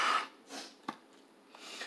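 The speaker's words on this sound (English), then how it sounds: "I hear sniffling." A person with a cold sniffles a few times: short nasal snorts and breathy inhalations, near and fairly quiet, with no talking.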